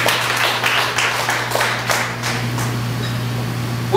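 Church congregation clapping together in praise during a sermon, a sustained burst of many hands with a rhythmic pulse over a steady low hum, fading slightly toward the end.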